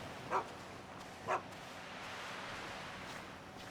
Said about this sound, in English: Oh, there's a dog apparently.